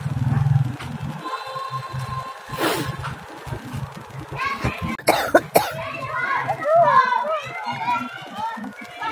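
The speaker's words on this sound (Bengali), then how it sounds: "কাশি হয়েছে" A person coughs a few times in sharp bursts amid nearby children's voices and chatter in a domestic setting.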